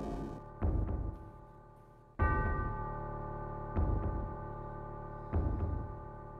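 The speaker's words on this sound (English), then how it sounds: "Those are heavy bells. Well, these are definitely meaty bells" Heavy, deep bells toll in Final Fantasy 7 game music: four loud strikes roughly every one and a half seconds, each with a long, ringing sustain that overlaps the next, and no voices.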